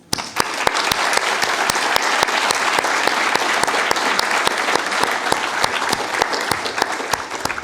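An audience at an afternoon educational program breaks into a sustained round of applause for the event's supporters, with dense, steady clapping that stays loud and even throughout.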